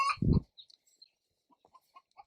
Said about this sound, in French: Là, vous entendez, on a fait un peu de poulet africain.